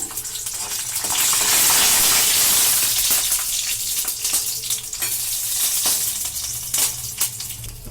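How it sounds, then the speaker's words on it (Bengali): Loud, close hiss and sputter of garlic cloves frying in hot oil, continuous for several seconds with occasional stirring scrapes. "এই আটকোয়া রসুন আমি তেলের মধ্যে দিয়ে দিলাম"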